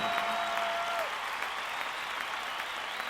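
Audience at a concert applauding warmly and steadily, a dense wash of clapping from many hands that continues without a break, with no voices standing out.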